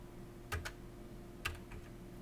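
A few quiet keystrokes on a computer keyboard while entering text into a spreadsheet cell, coming in two short clusters over a steady low hum.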